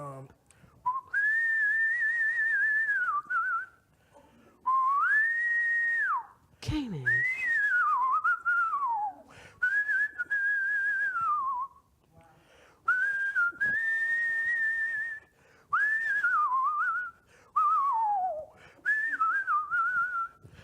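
A person whistles a melodic tune in long sustained phrases, sliding between notes, with short pauses and a brief spoken word between passages.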